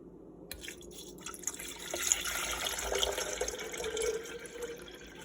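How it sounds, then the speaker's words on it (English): Spring water pours steadily into an electric kettle, a continuous splashing fill with small drips, moderately close and without talk. "I'm gonna go ahead and pour my water in."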